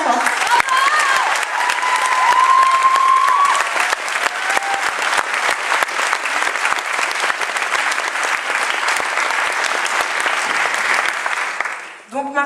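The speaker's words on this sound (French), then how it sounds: "donc merci de les applaudir bien fort." Loud sustained applause from a gala audience fills the hall, dense clapping with a few cheers, then quickly fades out near the end.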